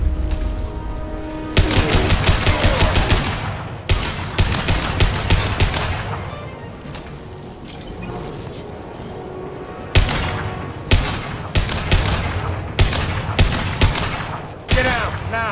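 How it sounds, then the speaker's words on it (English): Heavy automatic gunfire from a Mass Effect 2 firefight crackles in long sustained bursts, then breaks into sharp, closely spaced shots with brief gaps, loud and up close with little else over it. "Taking heavy fire!"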